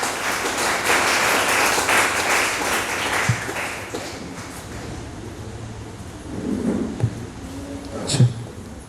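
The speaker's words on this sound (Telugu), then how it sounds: "సో పాస్టర్ జాన్ గారికి ఒకసారి గట్టిగా చప్పట్లు కొడదాం." A church congregation at a special service gives Pastor John a round of loud applause. The clapping is dense and sustained for about three seconds, then falls away to quieter room noise with a few scattered thumps and taps.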